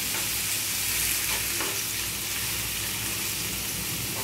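Two finely chopped tomatoes sizzle loudly in hot oil as they are stirred in a pan, a dense and continuous close frying hiss with soft scrapes and no talking.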